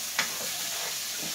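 Garlic hitting a hot pan with a steady soft sizzle as a spoon scrapes and stirs through it, one brief clack at the start, quiet and close.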